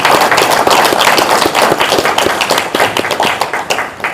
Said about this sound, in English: let's have a round of applause for the superintendent